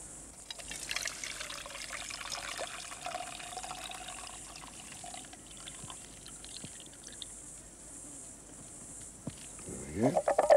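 Water is poured through grass laid across a mug as a strainer, out in the Top End bush. A soft trickle and pour runs through most of the clip, with a louder splash and clatter near the end.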